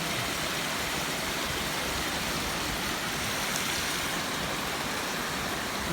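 Dense, steady rushing floodwater from a typhoon in Tuy, Batangas roars continuously with no letup, a broad wash of noise like a fast flood current nearby.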